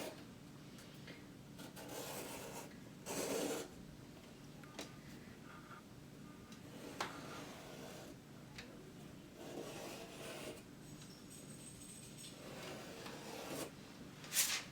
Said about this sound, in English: you would take it and you would just trace around, just like that